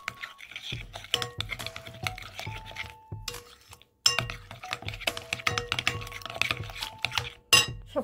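Tandoori chicken marinade of yogurt, lemon juice and ginger-garlic paste being stirred in a bowl, with steady clinks of a spoon against the dish and soft wet mixing sounds, close and alone without talk.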